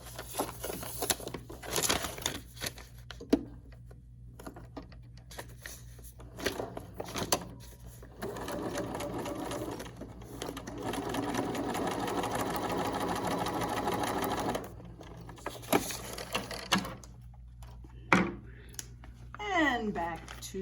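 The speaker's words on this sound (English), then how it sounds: "And now it's back to the sewing machine." A sewing machine runs in bursts stitching quilt pieces, with one long steady stretch of rapid stitching, separated by clicks, fabric handling and brief pauses.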